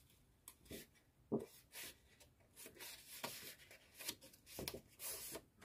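Bone folder rubbed over paper to crease the folds of a 21x21 cm ring-bound scrapbook album page; a series of soft, close scraping strokes in an irregular rhythm, quiet and alone.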